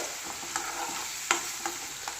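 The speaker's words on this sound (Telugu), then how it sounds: "ఉల్లిపాయ వెల్లుల్లి పేస్ట్ వేసుకొని బాగా కలుపుకుందామండి" Steady sizzle of onion-garlic paste frying in a pan, broken by several sharp scraping clacks of a spoon stirring at uneven intervals.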